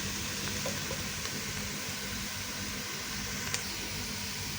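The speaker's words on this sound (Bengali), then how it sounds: "হালকা করে একটু ভেজে নিব।" Onion paste fries in a pan with a steady, even sizzle that hisses continuously at moderate volume, with only a few faint ticks and pops rising above the hiss.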